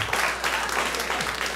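A comedy club audience applauds steadily throughout, a dense wash of clapping from a live crowd with no break.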